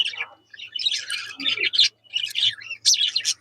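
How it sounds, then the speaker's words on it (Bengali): Pet budgerigars playing in a cage, giving rapid bursts of shrill chirps and squawks in uneven clusters, close and lively with brief pauses between calls. "এই দেখুন পাখিগুলো খেলাধুলা করতেছে"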